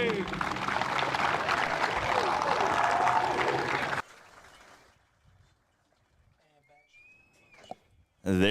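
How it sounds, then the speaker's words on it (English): Loud, dense crowd applause honors Hall of Fame inductees at a Heidelberg Student Princes college football game, holding steady for about four seconds before cutting off into quiet, with a bird chirp and a brief clap near the end. "Please give one more round of applause for Greg,"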